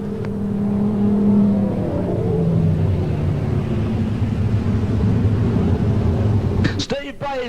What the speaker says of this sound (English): Gary Rush, after a late charge, putting the Australia Winfield number 2 car across the wire in third